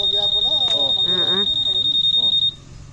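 A piercing, high-pitched alarm beeps rapidly and continuously at close range while people talk over it, then cuts off abruptly near the end.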